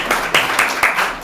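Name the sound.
congregation applauding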